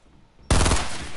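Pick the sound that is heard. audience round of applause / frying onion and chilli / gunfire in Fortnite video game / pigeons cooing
gunfire in Fortnite video game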